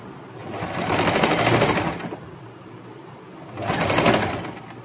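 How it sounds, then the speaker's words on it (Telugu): Sewing machine stitching a nighty yoke, running in two loud bursts of rapid needle chatter separated by a quieter pause, with faint bird cooing in the background. "ఇప్పుడు మనం దీన్ని స్టిచ్ చేసి వేసేసుకుంటాం"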